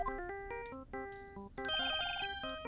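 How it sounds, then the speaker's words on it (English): A phone ringtone plays after redial is pressed in the video game Phoenix Wright: Ace Attorney, a bright melodic electronic tune of short repeated tonal phrases that swells into a denser, busier passage near the end, loud and clear with no talking. "You pressed the redial on that phone."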